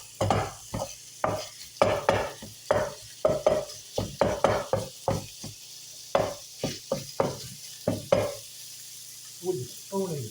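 A wooden spatula stirs an egg roll bowl in an electric skillet. The scraping strokes come in a steady rhythm of about two per second over a soft background sizzle, close and moderately loud, with no talk.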